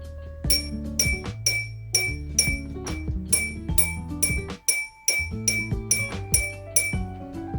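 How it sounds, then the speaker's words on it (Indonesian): A metal spoon taps an empty glass about a dozen times in an uneven rhythm. Each tap is a bright, close ringing clink that decays into a sustained tone, with a brief pause near the middle. "Ketukkan sendok pada gelas kosong tersebut dan ukur nada yang dihasilkannya."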